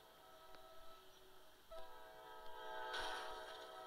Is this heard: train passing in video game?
yes